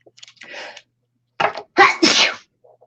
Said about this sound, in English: That stuff makes me sneeze.